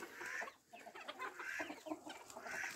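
A rooster clucks near a bantam hen in a quiet farmyard, giving a series of soft, repeated clucks in uneven bursts with nothing else heard.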